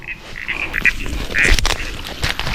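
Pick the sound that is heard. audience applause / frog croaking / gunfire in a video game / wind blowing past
frog croaking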